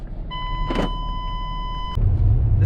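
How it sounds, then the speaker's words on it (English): In a Jaguar XJ (X350) a steady electronic chime plays, then a single firm mechanical clunk as the doors lock once the car is put in drive, followed by a low rumble from the car. "Put it in drive and the door's locked."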